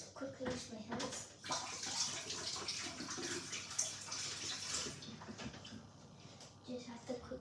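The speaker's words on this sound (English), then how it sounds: "let me just quickly wash my hands" Hands are washed under a running tap, a continuous close splash and rush of water with quieter dips, and a person talking faintly over it.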